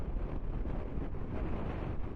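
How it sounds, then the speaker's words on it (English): Steady wind rushes and buffets the microphone while riding a 2023 Honda CB500X motorcycle on an open road, a constant low roar with no speech. "Very windy."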